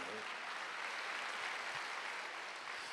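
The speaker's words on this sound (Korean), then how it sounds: "박수 하세요" A church congregation at a Wednesday worship service applauds in a steady, fairly faint wash of many hands, heard from a distance with no clear individual claps.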